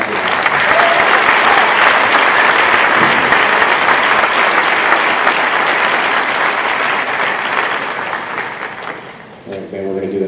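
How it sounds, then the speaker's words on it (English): An audience at a school band concert claps loudly and steadily for several seconds before the applause fades, and a voice briefly speaks at the end. "Let's just give it a, let's clap it up."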